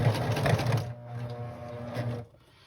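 A sewing machine stitching around the edge of fabric owl ears runs in a steady mechanical whir, pauses briefly near the middle, resumes for a second stretch, then stops, fairly quiet and close.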